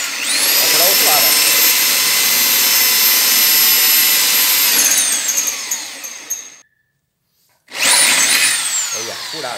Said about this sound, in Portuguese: Vai furar o outro lado, ó.